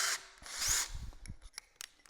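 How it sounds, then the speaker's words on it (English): A power drill bores a 3/8-inch pilot hole into wood in a few faint, short bursts of whirring and grinding, separated by brief quiet gaps, with no speech. "I recommend drilling a pilot hole"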